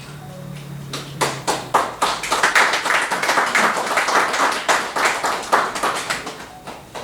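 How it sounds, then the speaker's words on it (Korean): Congratulatory applause at a Korean theological graduate school service awarding an honorary doctorate, clapping that starts sparse and then swells into a steady, rhythmic round with a brief voice at the beginning. "예, 축하의 박수 해주시기 바랍니다."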